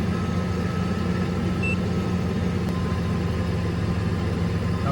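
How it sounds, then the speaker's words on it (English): Steady car engine idle with the headlights and air conditioning switched on full, a constant low hum and fan noise holding evenly throughout, with no talk. "turn on headlights and air condition to max and let it idle for 10 seconds"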